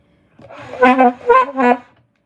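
Three wavering reed notes from an alto saxophone, breathy and unsteady in pitch, played alone in a short, clumsy phrase.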